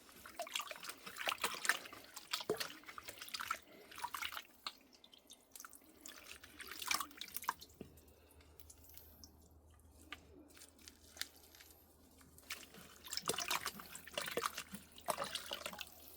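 Water trickles and drips as soil is rinsed from the roots of an American Blue plant being divided for repotting, with irregular splashes and dribbles throughout, fairly close and moderately quiet, no talking.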